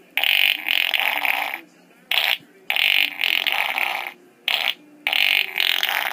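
Farting sound effects, a series of loud, close, buzzy blasts of varying length separated by brief silences, with no talking.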